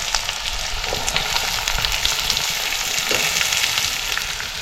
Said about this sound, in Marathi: तेल तापलंय. आता आपल्याला ही लसूण टाकायची आहे. लसूण टाकली की आता आपल्याला लगेचच याच्यात कांदा टाकायचा.